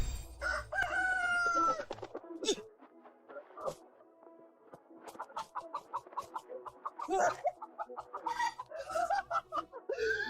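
A rooster crows loudly up close, followed by repeated clucking and squawking from chickens, with some voices and laughter mixed in.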